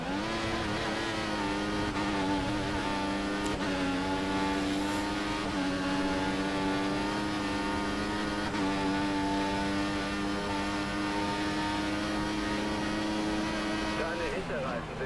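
Formula 1 race car in the F1 2014 video game at Italy practice, a loud continuous high-pitched engine whine with shifting pitch as cars pass, with a voice talking over it throughout.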